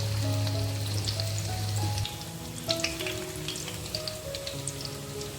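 Sajne (drumstick) flower fritters, bora, frying in hot oil, giving a steady crackling sizzle with scattered bright pops and a low hum fading out partway, no talking.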